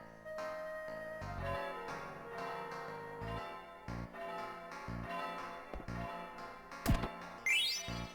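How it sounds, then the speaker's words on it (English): A bell rung by pulling a rope in Final Fantasy IX, soft tolling strikes over a gentle musical background, fairly faint. "We want to ring this bell."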